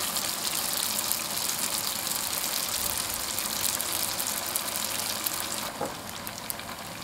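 Milk-and-flour dough snacks deep frying in hot oil, a dense steady bubbling hiss that stays constant and close throughout.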